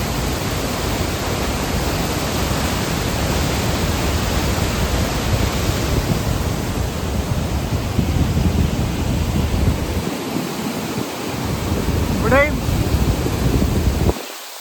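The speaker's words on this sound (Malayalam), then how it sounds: "പാലത്തേ നിന്നുള്ള വെള്ളത്തിൻ്റെ ചാട്ടം കണ്ടോ" The Attukad waterfall near Pallivasal in Munnar, Idukki, roars as water plunges, viewed from a bridge, a loud unbroken broadband rush filling the whole stretch with brief faint sounds near the end.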